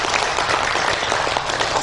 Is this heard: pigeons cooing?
no